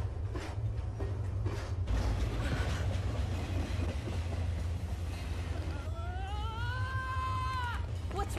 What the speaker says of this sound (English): Ladies and gentlemen, the Silver Star Express Charter is now departing from the station.